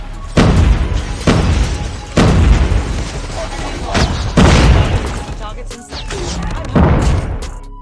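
Thumper grenade launcher firing in a video game: six heavy, booming thumps spaced about a second apart, each loud with a short decaying tail, close and punchy.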